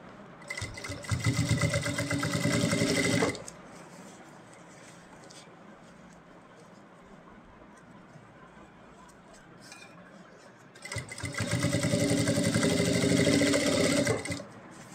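A sewing machine stitches a band collar for a kurti, running in two sustained bursts of close, loud, steady mechanical whirring, with a long quieter stretch of low room noise between them.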